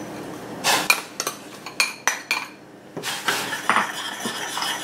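Rice flour being stirred into hot salted water in a pot to make dough, giving irregular scraping and clinking knocks of a utensil against the metal pot, close and fairly loud, with short pauses between strokes.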